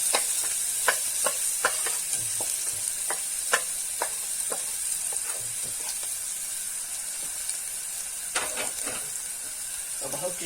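Garlic, coriander and cumin frying in a little oil in a pot, with a steady close sizzle and intermittent sharp stirring clinks and scrapes throughout.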